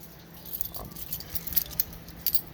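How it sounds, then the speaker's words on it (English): A set of keys for a 2021 Keystone Cougar 22RBS travel trailer jangles and clinks in short metallic bursts, close but fairly soft, with no talking. "I have my own set of keys right here, so we'll lock it right now."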